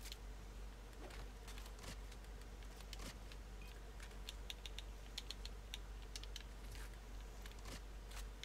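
Rapid clicking of computer keyboard keys typed in irregular bursts, close and fairly quiet over a steady low background hum during online game play.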